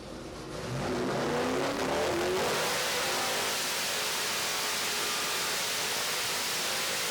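A Dodge Hellcat with a Magnuson 2650 Magnum supercharger on a 5.7/6.4 Hemi revs hard on a dyno, climbing quickly into a loud, sustained roar with a rising whine that holds steady at high rpm.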